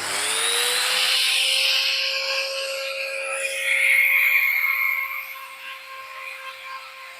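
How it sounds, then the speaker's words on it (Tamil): A power tool spins up to polish a handmade buffalo horn ring, its motor rising into a steady whine with rougher buffing noise as the horn is worked, then settling. "இப்போ பாலிஷ் போடணும் மேலே"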